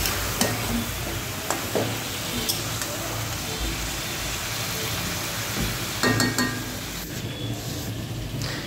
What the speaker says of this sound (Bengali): মুরগিটাকে একটু তেলে ভালো করে ভেজে নিব যাতে একটু শক্ত হয়।